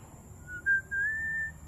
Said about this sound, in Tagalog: Pero ang lapit ng sipol.